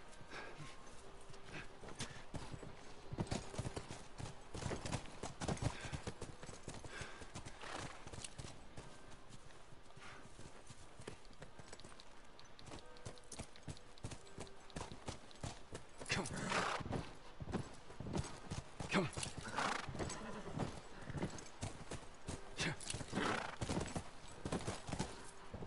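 Horses in The Last of Us trot with steady clip-clopping hooves, a continuous rhythmic patter with occasional snorts and a whinny, heard up close under a voice talking.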